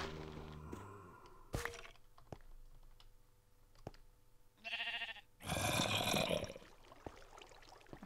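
A sheep in Minecraft modded with Tinkers' Construct bleats in a short wavering burst, followed by a louder, harsher rush, amid scattered game clicks and thuds at low level.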